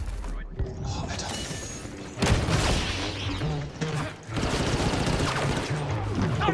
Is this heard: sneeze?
no